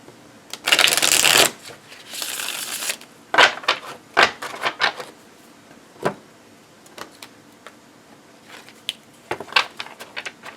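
A deck of cards is shuffled up close: a couple of long riffling bursts followed by shorter taps and squaring of the cards.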